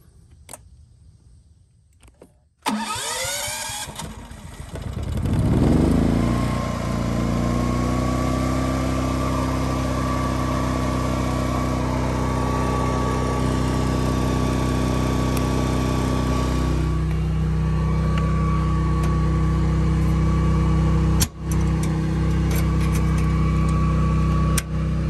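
A large dual-fuel generator running on propane cranks and fires up, then settles into a loud, steady engine drone that holds for over twenty seconds, close by with no voices.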